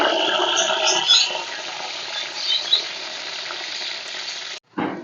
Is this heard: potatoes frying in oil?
yes